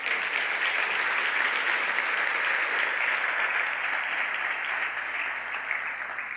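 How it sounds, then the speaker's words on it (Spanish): A church congregation applauds loudly and steadily for several seconds, a dense wash of clapping with no talk over it. "Dale un fuerte aplauso a Dios"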